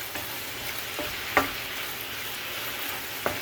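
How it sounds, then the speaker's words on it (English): Beef and garlic sizzle quietly in a pan, a soft steady frying hiss with a few faint stirring clicks, no talking. "So the sizzling has kind of subsided."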